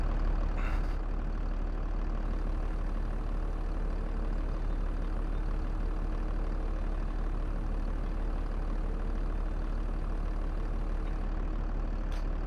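A tractor engine idles in Farming Simulator 22 as a constant, even low drone with a steady hum, unchanging and alone for the whole stretch.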